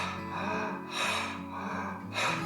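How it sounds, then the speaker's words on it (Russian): Deep, rapid breaths drawn through an open mouth during a guided energy-pumping breathing exercise, strong airy bursts repeating roughly every second and a quarter over a steady low background. "2 minutes breathing."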